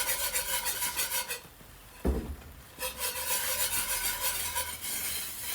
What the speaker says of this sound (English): Stirring constantly is critically important. You don't want to burn anything.